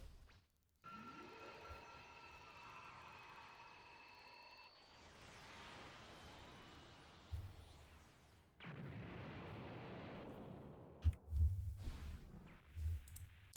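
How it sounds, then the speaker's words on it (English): A spirit bomb attack fires in the Roblox game Dragon Soul, beginning with a ringing, tonal charge-up, then a whooshing surge, a rumbling blast and scattered thuds and impacts toward the end. "now we're gonna go ahead and activate the life soul once again, but this time we're gonna use the spirit bomb"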